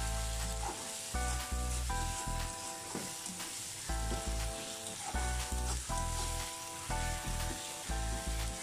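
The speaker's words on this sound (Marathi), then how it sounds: "टोमॅटो थोडा कुस करून घेऊया चमच्याच्या साह्याने म्हणजे तो पटकन शिजेल आपला टोमॅटो." Tomato frying in a pan while being mashed with a spoon for an egg curry, giving a steady sizzle with scraping stirs, alongside a strong tonal hum or music.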